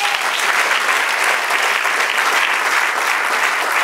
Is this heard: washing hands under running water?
no